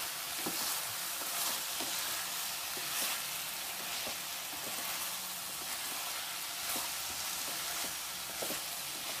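Brinjal curry with mango pieces fries in a pan with a steady, dense sizzle throughout, punctuated by light scraping clicks of stirring, and no voices.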